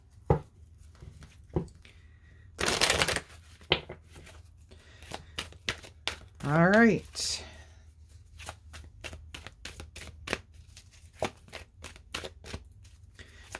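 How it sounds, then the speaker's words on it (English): Tarot cards are shuffled by hand in two quick riffling bursts, set among scattered crisp taps and card clicks in a quiet room, with a brief spoken remark. "I'm going to give this a quick shuffle and go right into this."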